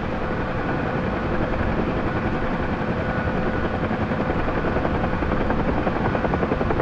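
A UH-1H Huey helicopter lands in DCS World with a loud, continuous rotor thump and turbine roar that stays steady and close throughout, with no voices over it.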